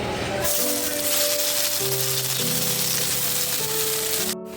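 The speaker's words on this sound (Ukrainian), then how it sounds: "І смажимо далі всі решту." Loud, steady sizzling of meat-free cutlets frying in a pan, close up, with tonal background music playing alongside.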